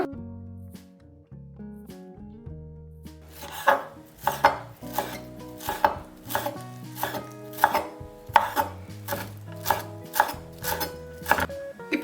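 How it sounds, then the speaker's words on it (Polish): Parsley being chopped with a knife on a board, a steady run of sharp, crisp knocks settling into a regular rhythm after a quiet start, close and clear, with a musical backing underneath and no talking. "A teraz pokroję pietruszkę."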